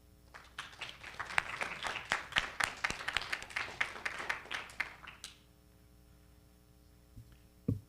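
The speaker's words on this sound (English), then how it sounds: "a round of applause" Audience applause for a speaker at a high school constitutional debate session, a steady round of clapping lasting about five seconds before it stops and the room falls quiet.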